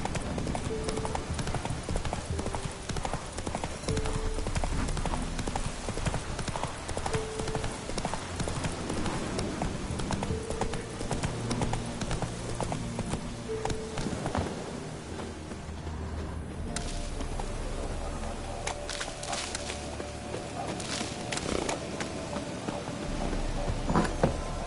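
Horse hooves clip-clop steadily at a gallop in The Witcher 3, continuous and close throughout, with faint game ambience and rhythmic tack sounds beneath.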